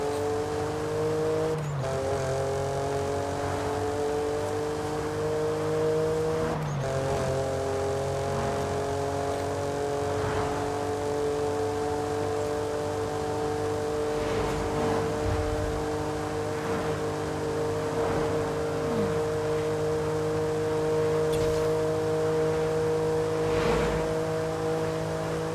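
Car engine revving and accelerating through rising gears in Forza Horizon 5, a lightweight all-rounder build maxed out to sixth gear, steady loud drone with repeated upward pitch sweeps and brief shift dips, no talking.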